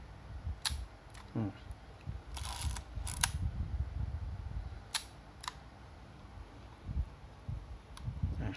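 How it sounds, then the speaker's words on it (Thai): Several sharp mechanical clicks of a camera shutter firing at slow speed at f/16, spaced apart, with a slower, drawn-out release between open and close, over low background rumble. "พี่หนึ่งจะกดถ่ายนะ"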